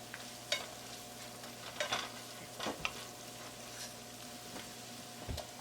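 Spring onions sauté in a pan, a low quiet sizzle beneath occasional scrapes and clinks of a stirring utensil against the pan.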